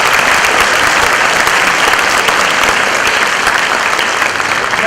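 Loud, steady applause from a concert audience cheering parents and families at an all-county children's chorus concert, continuous dense clapping throughout with no talk.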